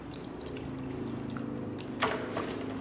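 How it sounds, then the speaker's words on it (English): Water pours briefly from a container into a bucket for a dry-mix Veneziano plaster, a short splashing gush near the end following a low steady background hum. "Pour a little bit of water in there."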